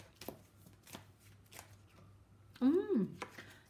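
Tarot cards are shuffled in soft, scattered riffles and slides, with a few sharp card snaps and a brief voice-like swell near the end, all fairly quiet.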